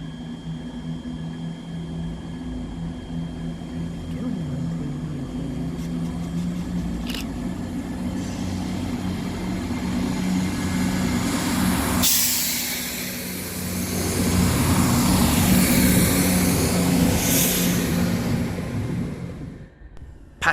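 A diesel multiple unit, class 158 no. 158739, runs past the platforms at Edinburgh Haymarket station, a steady engine drone and rail rumble swelling and fading as it goes through, with hiss and clatter rising in the second half.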